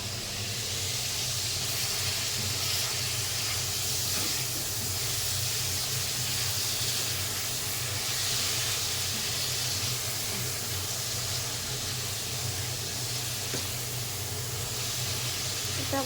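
Onion, garlic and ginger frying in a pan as a continuous, even hiss of hot oil, close and steady throughout with no voices.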